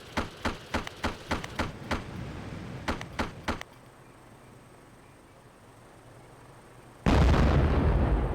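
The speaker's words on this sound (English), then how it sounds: "Is he shooting at some Soviets?" Gunfire and blasts from the video game Arma: Cold War Assault: a rapid run of sharp, evenly spaced shots, a short pause, a few more reports, then a quiet lull before a loud sustained explosive roar.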